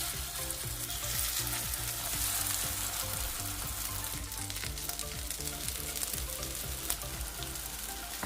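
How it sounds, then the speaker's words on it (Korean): Enoki mushroom pancake batter sizzles steadily in hot oil in a pan over medium heat, a dense, even frying hiss with faint stirring clinks, no voices. "예열된 팬에 식용유를 두르고 재료를 1스푼씩 떠서 중불에서 노릇하게 구워줍니다"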